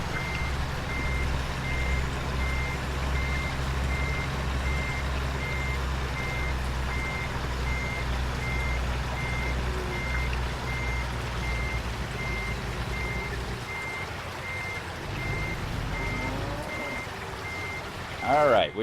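Steady, evenly spaced reversing beeps from a semi truck backing a trailer in American Truck Simulator, ringing over a low diesel idle rumble and light rain-like patter, with a driver's voice occasionally talking.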